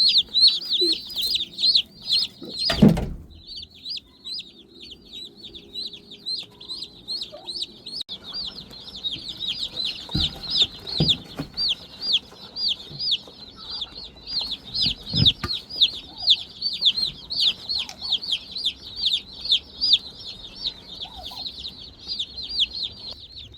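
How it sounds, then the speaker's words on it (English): Baby meat chicks peep in a near-continuous chorus of rapid high chirps, with a few thumps and rustles of handling beneath and no talking. "get these baby chicks situated"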